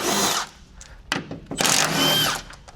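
A power tool whirs in three bursts while undoing the battery bolts on a Nissan Leaf during a 40 kWh battery pack replacement: a long run, a brief blip, then a second long run, close and loud.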